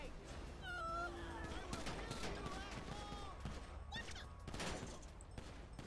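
Rapid bursts of gunfire in a GTA 5 police shootout, shots cracking in clusters over a busy game soundscape with sirens and voices mixed in, loud and nearly continuous throughout.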